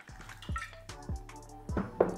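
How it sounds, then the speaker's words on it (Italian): Water poured into a biodegradable cup, producing a series of soft drips and splashes in short bursts, quiet and close with no talking. "Andiamo ora a versare dell'acqua all'interno del nostro bicchiere."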